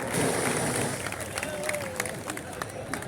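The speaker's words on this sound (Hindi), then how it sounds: "ताली बजाओ" An audience at a political speech breaks into applause and crowd noise, a steady wash of clapping and babble that holds for the whole stretch under a speaking voice.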